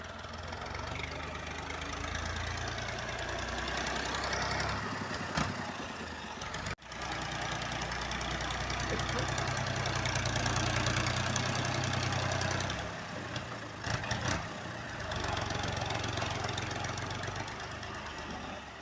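A dumper truck engine idles nearby at a construction site, a steady rough low rumble with a brief cut partway through and a few knocking pulses.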